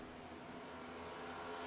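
A race car engine in a racing video game's stock-car series event at the Roval road course, holding a steady, loud, even drone at high revs with no break.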